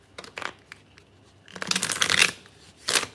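Tarot cards are shuffled in a forceful, rapid way, with scattered riffling flicks followed by a longer dense burst of shuffling and a final short flurry, close up with no talking.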